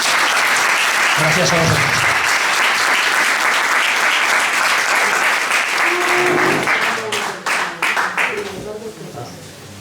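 An audience applauds after a talk on urban public tree management, loud sustained clapping that thins out toward the end, with a voice speaking over it.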